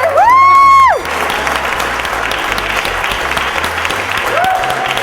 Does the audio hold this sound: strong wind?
no